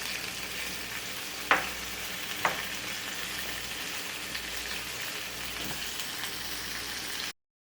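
Spicy red salsa simmers and sizzles steadily in a pan, a constant close frying hiss with a few sharp stirring clicks and no talk.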